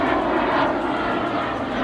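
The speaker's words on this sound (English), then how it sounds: "fighter jet." Steady, loud roar of a fighter jet passing close overhead, a dense broadband rumble with no voices.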